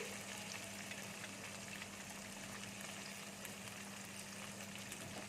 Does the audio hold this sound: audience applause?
no